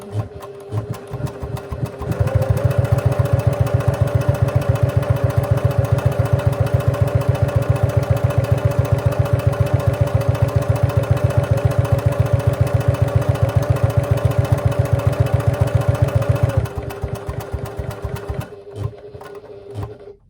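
A Janome HD9 sewing machine top-stitches a wristlet strap in a steady fast rhythmic run of needle strokes lasting about fourteen seconds, close and loud, with slower individual stitches at the start and the end.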